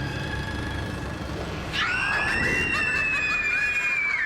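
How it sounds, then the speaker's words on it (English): Little girls let out a high, sustained scream at a scary clown, rising suddenly over a dull rumbling background partway through and holding loud to the end. "the little girls might be screaming"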